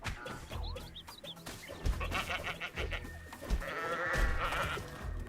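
Sheep bleating in the Assassin's Creed Valhalla video game, several wavering bleats layered over a busy backdrop of game effects, fairly close and moderately loud.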